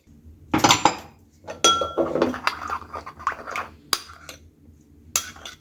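Salad being mixed in a bowl with salt and lemon, utensils scraping and clinking against the dish in a few separate bursts of stirring, close and moderately loud, no voices.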